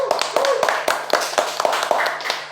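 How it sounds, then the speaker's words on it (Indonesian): Applause for a guest speaker at a Daihatsu sales talk, heard as a steady run of about ten evenly spaced, close handclaps over a low hum. "Aplaus lagi buat Bang Ajis yuk"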